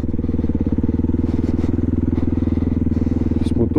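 A motorcycle engine drones loudly and steadily while the bike rides through mud, with a close, rapid pulsing beat throughout.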